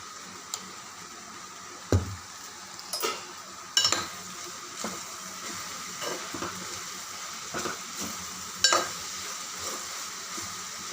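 Tomatoes and okra with chili powder sizzle steadily in a pan. A utensil scrapes and knocks against the metal from time to time while the stirring goes on, close by, with no talking.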